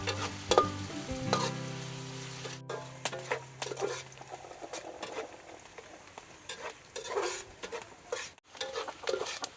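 Aromatics and turmeric sizzle in hot oil for chicken arroz caldo, with steady frying crackle and intermittent scraping stirs of a spoon against the pan, close and moderately loud.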